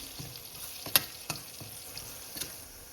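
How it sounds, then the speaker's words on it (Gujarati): Crushed spice paste for samosa filling sizzles softly in a pan, with a few brief scraping stir sounds and one sharper clink, quiet and close. "એને આ રીતે થોડી વાર શેકાવા દઈશું"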